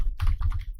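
Typing on a computer keyboard while entering a command on a Windows 10 PC, a quick cluster of several close, distinct key clicks with a short pause before a final keystroke.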